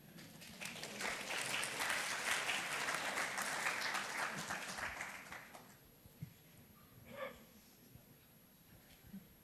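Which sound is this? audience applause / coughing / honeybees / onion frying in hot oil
audience applause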